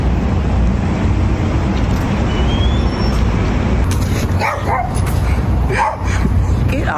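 Small dogs yipping and barking outdoors along a city riverside walkway in Chicago, a few sharp barks in the latter half over steady traffic and ambient noise, with faint voices present.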